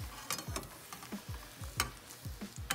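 Food sizzles and is stirred in a frying pan while being flipped, with quiet frying noise broken by repeated light scraping clicks and taps at an uneven rhythm.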